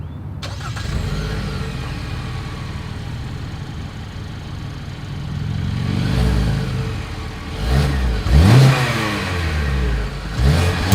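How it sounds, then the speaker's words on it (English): A 2022 Kia Sportage exhaust starts up and settles into a steady idle, then rises into several sharp revs toward the end. The engine sounds close and loud, with no talking over it. "As always, here is that exhaust clip."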